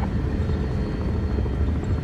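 Helicopter rotor thrum and low rumble from a Medal of Honor game helicopter on landing approach, steady and loud throughout with no talk.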